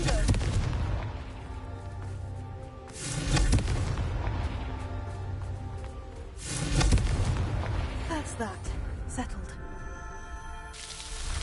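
Fiery Confringo spell blasts in the Hogwarts Legacy video game, several booming bursts rolling out over continuous game music and effects, loud and close.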